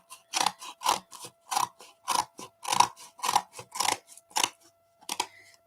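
Scissors snip through a glossy magazine page in a quick series of about a dozen crisp, close cuts with short pauses between them, no voices present.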